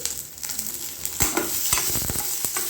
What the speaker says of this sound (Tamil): இப்போ இதையும் பச்சை வாசனை போக நல்லா வறுத்து விட்டுக்கலாம்